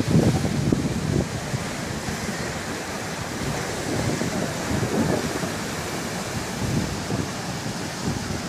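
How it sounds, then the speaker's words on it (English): Ocean waves crash onto rocks at Ahalanui Beach Park in Hawaii, a continuous loud roaring wash with surging swells and wind buffeting the microphone. "the bigger waves from the ocean come crashing onto the rocks"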